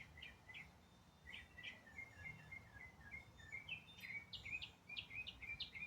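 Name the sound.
small birds singing in the morning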